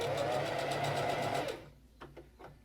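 A sewing machine stitches a fabric tote bag in a fast, steady mechanical run that stops partway through, leaving a few faint clicks and handling sounds.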